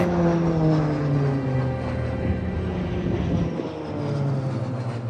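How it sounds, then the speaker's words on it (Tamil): A loud, steady aircraft engine roar drones throughout, with a low droning hum that shifts in pitch and a brief dip in the rumble toward the end. "வானத்தில் விமானங்கள் திசை தவறுகின்றன"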